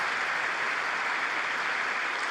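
Sustained applause from a large political audience during a speech honoring rescued American hostages, a dense, steady wash of clapping at even loudness throughout with no voices standing out.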